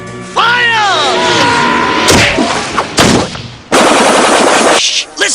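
Cartoon gunfire erupts in loud rapid bursts and cracks after a descending whistling sweep, with a voice heard briefly among the shots.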